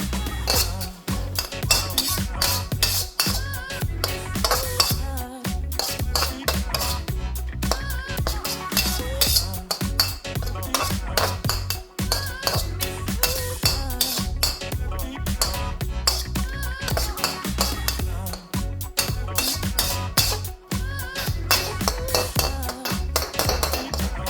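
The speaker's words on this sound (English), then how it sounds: "Once again, quickly stir." Dried shrimp stirred quickly in a pan for Bangkok street-style phad thai, a steady run of metallic scraping and clinking against a continuous sizzle, with no voices.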